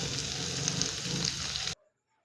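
Pork and tofu frying with spices in a pan, a steady close sizzle and crackle that cuts off abruptly after under two seconds.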